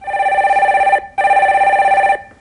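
A telephone rings for an incoming call during a live Korean stock-market call-in broadcast, two loud, close electronic trilling bursts separated by a short pause, heard alone.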